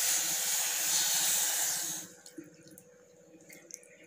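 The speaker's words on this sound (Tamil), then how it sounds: "போட்டுட்டு தண்ணி வந்து ஒரு கால் கிளாஸ் ஊற்றுக்கலாம்" Water pours from a glass onto jaggery for a flattened-rice sweet, a steady close hiss that stops abruptly halfway, leaving a quiet room with faint clinks.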